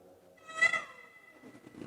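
A cat lets out one clear, close meow that rises and falls, followed by quieter rustling in an otherwise quiet room.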